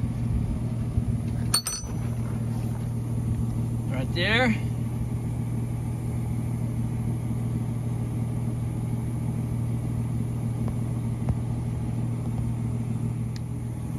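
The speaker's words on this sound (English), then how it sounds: "You pull your truck up" A pickup truck pulls up toward a trailer hitch, its engine giving a steady low hum throughout, while someone speaks briefly and a few clicks sound early on.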